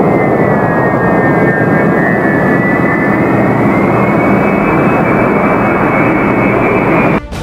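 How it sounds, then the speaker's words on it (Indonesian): A Russian Il-76 transport aircraft lands in Tehran, Iran, its jet engines producing a loud, continuous roar with a steady high whine that slowly shifts pitch, held throughout before cutting off abruptly near the end. "Sebuah pesawat angkut Il-76 yang lepas landas dari Rusia mendarat di Teheran"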